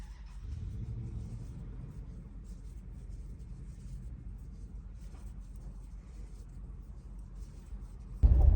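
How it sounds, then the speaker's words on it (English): A truck arrives at a ranch with a steady, low engine rumble that runs throughout. A louder thump comes right at the end. "All right, the truck has made it here."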